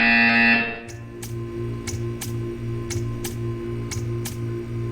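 A buzzer in the Portal 2 video game sounds in a regular series of sharp electronic pulses, about seven evenly spaced beeps over a steady low hum, following a brief louder tone at the start.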